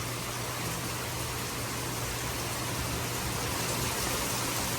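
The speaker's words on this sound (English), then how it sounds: "It's a heavy, heavy storm." Heavy rain from a thunderstorm in Texas, a steady, dense broadband roar, close and unbroken, with no thunder or voices standing out.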